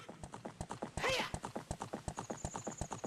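Steady clip-clop of horse hooves from the Ocarina of Time video game, with a loud, bright whinny bursting out briefly partway through while the rhythmic hoofbeats keep going.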